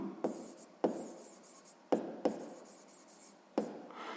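Pen strokes writing out a sixth-grade math solution, with five sharp taps as the pen strikes the paper, each followed by soft scratching, close and fairly quiet.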